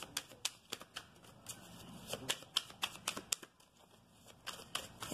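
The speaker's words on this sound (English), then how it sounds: "Okay, one more shuffle." Tarot cards are shuffled by hand in quick, irregular bursts of crisp riffling snaps and flicks, close and fairly quiet, with brief pauses between clusters.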